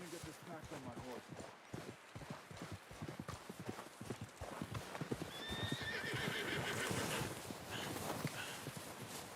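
Horse hooves clip-clop steadily in the Red Dead Redemption 2 video game, and a loud whinny rises near the end. A player talks over much of it.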